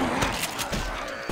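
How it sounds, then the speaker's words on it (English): Weapon reload in Left 4 Dead 2, a short run of mechanical clicks and creaks over dense busy game noise, with a faint thump near the end. "Reloading!"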